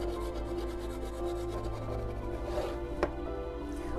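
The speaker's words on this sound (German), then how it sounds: "Den werde ich jetzt gerade noch mal einmal hier von seiner Backhaut befreien und den schneide ich auch" A knife saws through the baked crust of a sponge cake base for a raspberry cream cake, giving soft, quiet scraping and rubbing strokes close by, with one sharper tap near the end.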